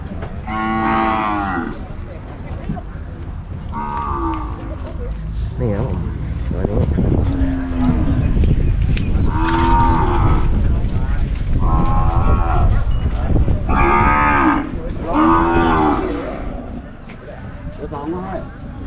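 Cattle moo repeatedly at the Phaniat cow and buffalo market in Lopburi, Thailand, several loud, drawn-out calls overlapping one another amid steady crowd noise and people talking nearby.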